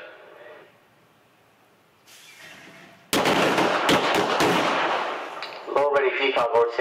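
Handgun shots fired on an LAPD qualification course, a loud burst of sharp reports crowding together after a quiet, muffled stretch, followed by a voice speaking near the end.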